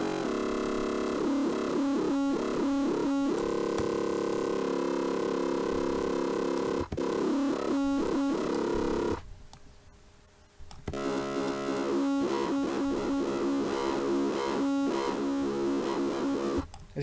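An FM-modulated sine wave on FL Studio's GMS synthesizer gives a harsh, buzzing tone with metallic, clangorous overtones in pulsing bursts, briefly dropping to a quiet noisy patch before returning loud.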